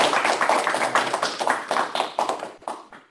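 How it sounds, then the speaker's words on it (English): Audience applause at an academic seminar, a dense wash of many hands clapping at once, loud and steady at first and then thinning and fading toward the end, with no voices. "let's give a round of applause"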